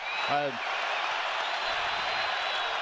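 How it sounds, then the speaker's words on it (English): Crowd cheering at an Iowa State versus BYU college basketball game fills the arena as a steady, dense roar throughout, with a brief voice near the start. "That gets this crowd going."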